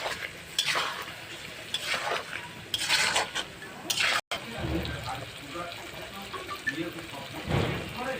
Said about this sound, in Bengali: আলুটাকে মশলাটা করে আলুটার সঙ্গে ভালো করে কষে নেব